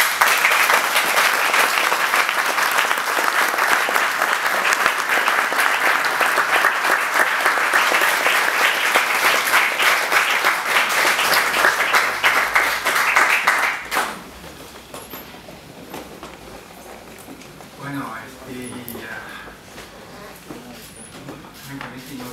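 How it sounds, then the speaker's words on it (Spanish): A symposium audience gives a lecturer a long, loud round of applause, dense steady clapping for about fourteen seconds before it fades into scattered claps, shuffling and murmur. "les pido por favor un gran aplauso para él"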